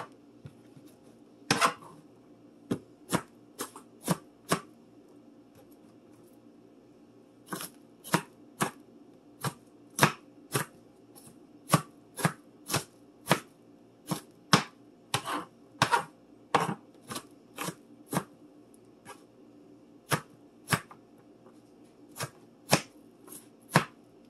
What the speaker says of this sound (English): Go ahead and drop the onion in, and they don't have to be perfectly minced.